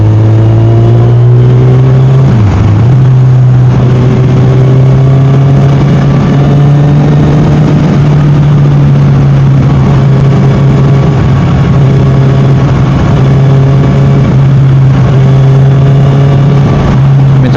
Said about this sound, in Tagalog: Ayan, magmumotor tayo.